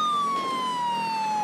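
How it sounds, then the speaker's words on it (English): Police car siren in the video game GTA 5 with LSPDFR, playing as an Alabama State Trooper patrol: a steady, loud wail that slides slowly downward in pitch and rings throughout without pause. "Turn our sirens off at the second so we can try and catch up to them."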